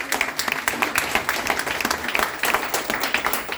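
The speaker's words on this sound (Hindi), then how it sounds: "तालियां जोरदार बजा सकते हैं सर आप" Audience at a business seminar on trust and Bitcoin in Singapore applauding, a steady, dense run of claps at moderate loudness with no voices over it.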